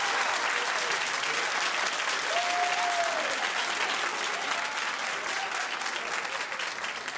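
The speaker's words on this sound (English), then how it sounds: "Clap if you do" A television talk-show studio audience claps, a dense, steady wave of applause filling the whole stretch, loud and unbroken, with a brief tone sounding briefly over it.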